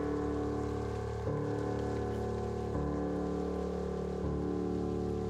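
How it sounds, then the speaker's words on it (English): Steady rain falling on surfaces outdoors, a constant even patter with no voices, holding at the same level throughout. "Wait for the rain to pass."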